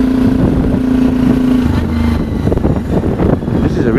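A Sinnis Terrain motorcycle with fuel injection and an aftermarket exhaust revs under smooth throttle, its engine droning steadily near the microphone with rising and falling pitch.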